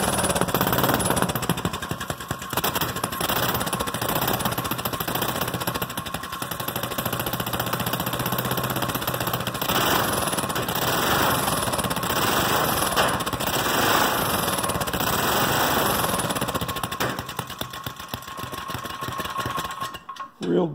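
A go-kart engine fitted with a Mikuni-style carburetor, started for the first time after 20 months, rattles loudly and close in a rapid buzzing stutter, rising and falling as it revs before cutting off.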